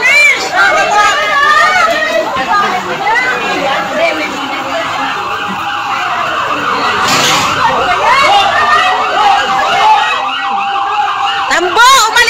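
A fire truck siren wails steadily and loudly at a house fire in Tondo, Manila, its rising and falling tone continuing under excited crowd chatter and shouting voices throughout.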